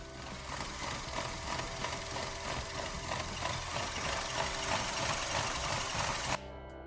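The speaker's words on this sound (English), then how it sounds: "Customer states the car makes a panting sound and rumbles at low idle." A car engine with a fault that makes it pant and rumble at low idle, idling low and rough, a continuous rumble with an uneven pulsing throb, close by, cutting out abruptly near the end.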